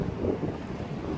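Stormy sea waves crash against rocks in a bay on Tenerife, a steady, loud, close roar of surf with heavy wind buffeting the microphone and no voices.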